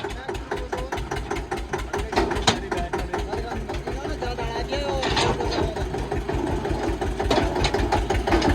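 A tractor stuck in the field while hauling a sugarcane trailer idles loudly with a rapid, steady diesel chug, revving slightly as it is shifted into reverse, while people talk over it.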